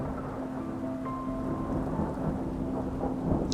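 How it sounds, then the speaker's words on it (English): Steady rain falls in Georgia's mountains in a continuous dense hiss, with a faint low rumble underneath and no voices. "I enjoy listening to the rain"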